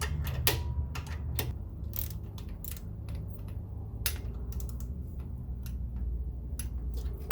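A torque wrench tightens 13 mm bolts to 12 foot-pounds during a locker install on a Jeep Cherokee axle, giving sharp, close ratcheting clicks in irregular clusters over a quiet workshop background.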